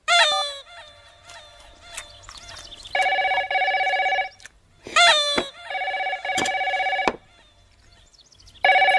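A telephone rings in repeated electronic bursts of steady tones, separated by short gaps and interrupted bursts, loud and close in a comedy scene, with no talk over it.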